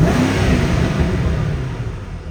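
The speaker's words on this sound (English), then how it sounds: "Give it a couple revs for you guys." A 2007 Ford Mustang Shelby GT500 in Grabber Orange with white stripes, its supercharged V8 revved up close and loud in one sustained burst that tapers off slightly, with no talking.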